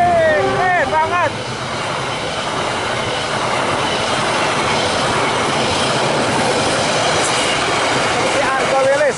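The Malabar passenger train with new stainless steel carriages rolls loudly through Cimekar station at close range without stopping, a steady roar of wheels and carriages with horn-like tones at the start and end.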